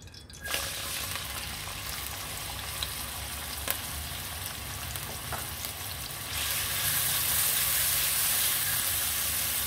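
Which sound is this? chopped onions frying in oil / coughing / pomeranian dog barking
chopped onions frying in oil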